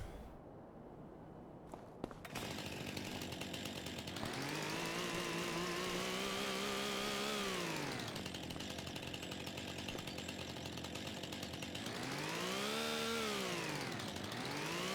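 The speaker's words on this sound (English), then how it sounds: "Now we have our first chainsaw." Steel chainsaw in Farming Simulator 25 starting with a pull, then idling and revving repeatedly, its whining engine pitch rising and falling in loud sustained surges.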